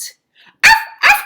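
Two loud, close dog barks in quick succession after a brief quiet stretch, with nothing else around them.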